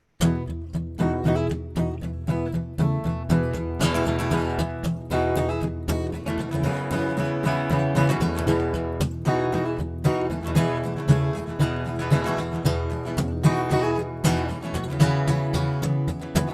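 Acoustic guitar plays a song in a live-stream concert, with dense, steady fingerpicked rhythm and ringing bass notes that sound close and full throughout.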